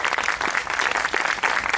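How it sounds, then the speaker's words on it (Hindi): Loud, dense applause from an audience at a spiritual discourse, many hands clapping steadily and close throughout the short burst. "ताली तो जोरदार बजाओ, पता चले"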